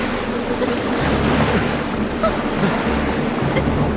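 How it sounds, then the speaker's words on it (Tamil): A strong wind gusts in a dramatic scene, making a loud, continuous roaring rush with a low rumble that swells and eases throughout, like wind striking a microphone. "இப்போ என்ன காத்து இப்படி வீசுது?"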